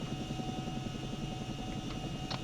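A Chinook helicopter lifts into a hover takeoff in the video game ArmA, giving a steady low rotor and engine drone with rhythmic blade thumping, continuous and fairly loud, no talking.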